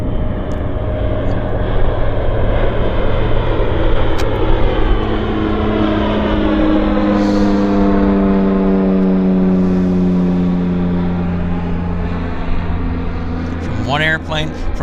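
A fixed-wing airplane takes off at Vancouver YVR airport, its engines a loud, sustained roar that rises in pitch and then slowly fades into the distance, with someone talking over it.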